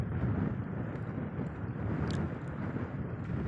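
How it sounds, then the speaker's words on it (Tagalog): Strong wind at the sea buffeting the microphone, a constant low roaring rumble with no pause throughout. "Lakas ng hangin. Tapos malamig pa."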